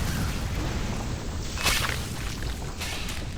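An explosion goes off in Bioshock, a muffled boom with a brief bright burst rising out of a steady roaring game background, then fading back into the din.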